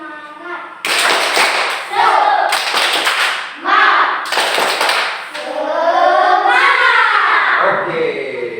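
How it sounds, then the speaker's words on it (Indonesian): A group of children clap a rhythmic cheer-clap routine in unison, bursts of sharp sync claps separated by pauses, with voices chanting and shouting between and alongside the clapping. "Tepuk semangat."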